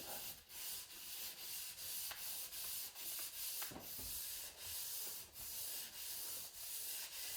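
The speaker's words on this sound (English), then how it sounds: "the more you sand it, the more you're going to take off your burn" Repeated back-and-forth strokes of sandpaper rubbing a burnt wooden shovel handle, a steady rhythmic scratching about once a second, close and even, with no talk.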